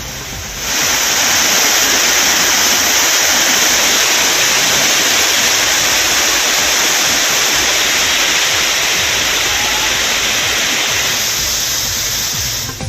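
Courtallam waterfalls in Tamil Nadu pour down in a steady, loud, dense roar of falling water, constant throughout with no voices.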